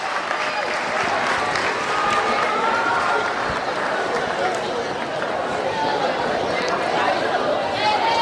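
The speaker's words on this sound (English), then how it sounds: "one more huge round of applause for your seniors 2020." Sustained applause and cheering from a crowd in a high school gym honoring senior players before a varsity women's basketball game, steady and full throughout with scattered shouts.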